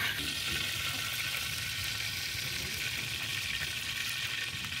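Continuous hissing sizzle of food deep frying in hot oil at a night campsite, close and steady, with faint crackles and a low background rumble.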